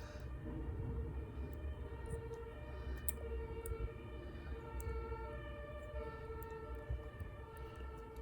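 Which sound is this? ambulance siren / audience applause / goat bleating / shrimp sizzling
ambulance siren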